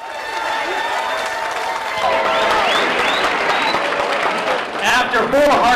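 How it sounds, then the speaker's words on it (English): Applause from an arena crowd at a boxing event, a steady dense wash of clapping with cheers and whistles rising over it, and crowd voices mixed in throughout. "a round of applause for both these winners"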